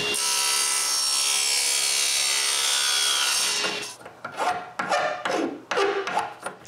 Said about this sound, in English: I need to cut some lengths of aluminum tubing for a support.